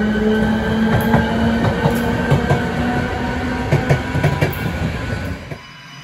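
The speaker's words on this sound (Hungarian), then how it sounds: "Én úgy találtam így a videóim alapján, hogy a mozdonynak a menet hangjai azok megfelelőek." A Trix model of the Skoda 109E electric locomotive (CD 380) runs with steady synthesized running sounds: a constant hum, tonal whine and rhythmic clicks, loud and alone, fading near the end.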